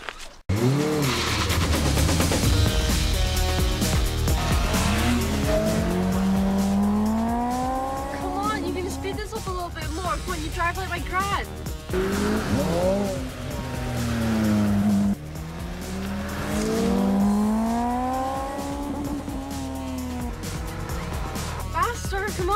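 Racing cars roar with engines revving up and down in repeated rising sweeps, joined by squealing tyres, loud and continuous throughout, with voices occasionally heard over the action.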